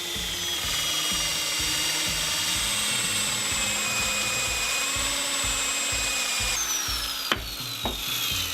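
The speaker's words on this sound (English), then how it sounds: "we're going to use our 1 3/4 inch hole saw, and we're going to cut it out of this block of wood that I have here" A 1 3/4 inch hole saw bores steadily through a block of wood, with a loud, close, continuous drilling whine and grinding rasp that dips slightly near the end, and no talk.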